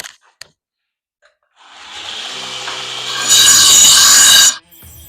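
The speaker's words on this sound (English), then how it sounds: "So I'm going to take it to the grinder and grind off" Bench grinder grinding the teeth off a steel farrier rasp: a steady rising grind that swells louder and harsher for about a second before cutting off abruptly, heard alone with no talk.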